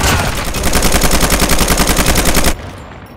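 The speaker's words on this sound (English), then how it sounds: "Hostile sentry gun in your AO." A hostile sentry gun in a shooter video game fires a loud, continuous stream of rapid automatic shots for about two and a half seconds, then cuts off abruptly.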